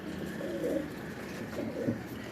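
A pigeon gives two low, throaty coos close by, each a soft rolling burst about a second apart, over a steady background hum.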